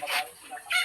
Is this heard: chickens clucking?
yes